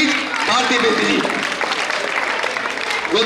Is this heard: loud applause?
yes